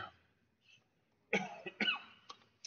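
A couple of harsh, close dust coughs in quick succession, followed by a smaller throat-clearing sound in a quiet room.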